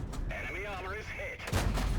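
Tank gun in a video game involving a KV-1S, with warbling tonal game sounds first and then a single loud cannon blast near the end.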